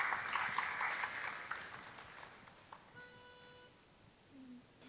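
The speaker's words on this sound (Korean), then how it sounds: "여러분 박수로 환영해 주시면 감사하겠습니다." An audience at a university retirement ceremony applauds to welcome students forward, a loud burst of clapping that fades out within a couple of seconds, leaving faint room tones.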